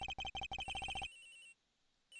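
Cell phone ringtone in the Ace Attorney video game, a rapid series of bright electronic beeping pulses for about a second, then a sustained tone that drops to near silence before resuming.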